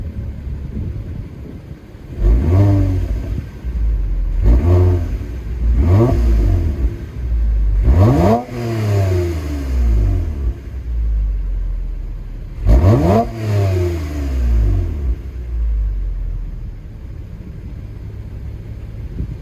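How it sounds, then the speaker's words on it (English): A 2022 Toyota TRD Camry in Cavalry Blue is revved repeatedly through its exhaust, five or six loud throaty blips rising and falling with short pauses between them, close to the microphone. "Can I show you what the exhaust sounds like?"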